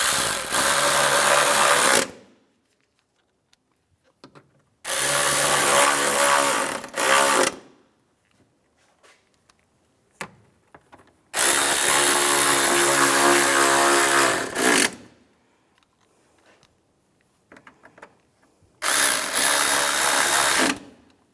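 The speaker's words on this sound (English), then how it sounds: "Now I'm going to put these screws in and tighten them down." A power tool drives screws into the intake manifold of a 2004-2010 BMW X3, in four separate whirring bursts of about two to three seconds each, with quiet pauses between them.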